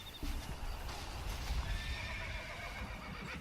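A horse whinnies in Red Dead Redemption, a long rising-and-falling neigh standing out over steady game ambience, close and fairly loud with no talk.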